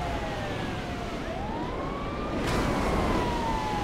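An ambulance siren wails in GTA 5 gameplay, its pitch sweeping up and down over a constant rumbling engine and road noise, fairly distant and unaccompanied by talk.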